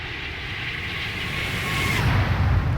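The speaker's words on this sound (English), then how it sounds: "Let's do another flyby shot here." An Airbus A320neo passing by in a flight simulator game, a steady jet engine roar that swells slightly louder toward the end of the flyby.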